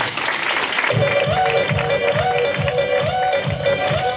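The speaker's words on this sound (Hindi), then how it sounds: "एक जोरदार तालियां" An audience claps at a gathering, sustained applause that runs under steady music with a rhythmic low beat, while a voice carries on faintly in the background.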